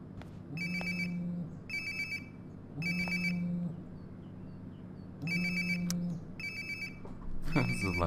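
Mobile phone ringing in Life Is Strange: Before The Storm, a repeating electronic ringtone in evenly spaced bursts, fairly clear and near, with a low tone under each ring.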